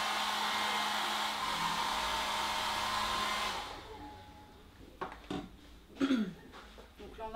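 A hair dryer blows steadily and loudly to dry liquid latex applied to a model for a special-effects cut, then switches off, leaving a few brief handling knocks and faint rustles.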